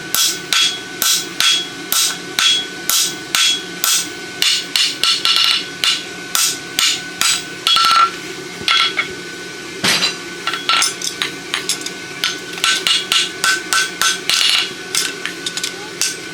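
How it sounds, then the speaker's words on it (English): Hammer blows drive a bob punch into hot steel while forging a small 1/2" by 3/4" roadster horseshoe on an anvil: a long run of rapid, loud, ringing metallic strikes in steady rhythm, with brief pauses and no talk. "Now we can drive our bob punch in here."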